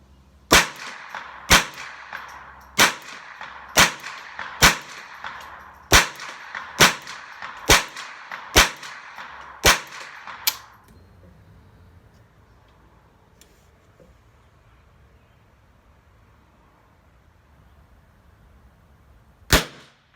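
A Ruger 10/22 takedown rifle fires .22 rounds, about eleven sharp, close shots in steady rapid succession, then a long quiet pause before one more shot.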